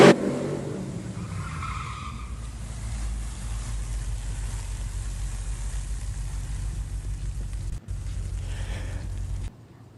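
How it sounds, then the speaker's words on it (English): Two VF Holden Commodores, a GTS and a sports wagon, at Sydney Dragway, heard as a steady engine rumble with tire noise and a brief squeal at the start, continuing at moderate distance. "There's got a pair of VF Commodores about to make their way out."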